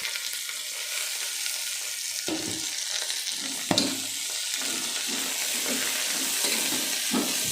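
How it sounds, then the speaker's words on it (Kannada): Chopped onions fry and get stirred in a pan for tomato bath, a steady sizzle with scraping strokes of the spoon recurring every half second or so, close and fairly loud, with no talking. "ಈರುಳ್ಳಿಯನ್ನು ಮಿಕ್ಸ್ ಮಾಡಿಕೊಂಡು ಅದನ್ನು ಕೂಡ ಲೈಟಾಗಿ ಫ್ರೈ ಮಾಡ್ಕೋಬೇಕು"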